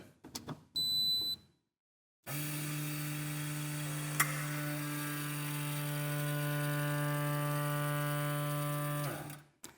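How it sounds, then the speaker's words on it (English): Electric vacuum pump motor of a Winlet glass lifter starts abruptly, runs steadily with a strong hum and rising whine for several seconds, then shuts off; a brief beep sounds beforehand. "the electric motor starts up, it builds up vacuum in the twin vacuum tanks"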